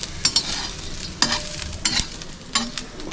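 Whole spices roasting in a pan for chicken soup, stirred with a few sharp scraping strokes over a low, steady sizzle, close up and with no voices.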